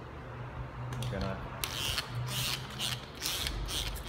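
Several short hissing bursts from a spray bottle mist water in quick succession, fairly close, with faint handling noises in between, during a wet install of vinyl graphics.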